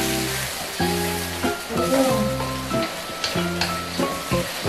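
Chilies frying in a pan for Indonesian sambal, a steady sizzle with scrapes and clatter of stirring, punctuated by rising and falling tonal squeals, close and fairly loud, no talking.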